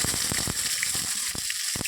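Soybeans and potatoes frying in a pan, with a steady sizzle and bubbling running throughout and a few louder bursts spaced through it, close up with no talking.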